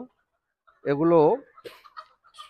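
Domestic hens on a farm, some of them recovering from a breathing illness, give one loud drawn-out call followed by a few scattered softer clucks close by.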